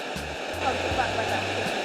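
River water rushing steadily at Land Settlement River, a mile and a half outside Port Antonio, Jamaica, a continuous broadband wash with low tonal hum and faint voices or movement underneath.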